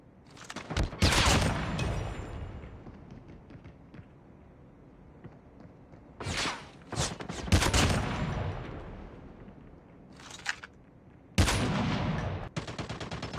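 Gunfire in Call of Duty Mobile, with several sharp bursts of rapid shots separated by quieter gaps, the loudest volleys near and punchy.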